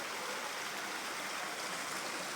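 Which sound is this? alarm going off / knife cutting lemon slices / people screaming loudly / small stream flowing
small stream flowing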